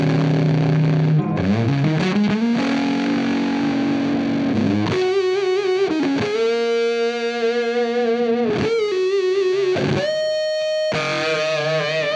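Electric guitar through a cranked germanium fuzz pedal into a Friedman small box amp, its bias knob being adjusted, with long held fuzzy notes and bends shifting in pitch, loud and unaccompanied.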